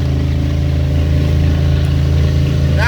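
A 2006 Sea Ray 27 SLX with a 375-horsepower engine cruising steadily at about 3,000 RPM and 30 mph, a loud, constant, deep drone with no talking.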